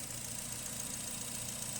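A 2008 Nissan Tiida with a 1.6 petrol engine and automatic gearbox idles quietly, giving a steady, even hum with no revving or change in pitch throughout.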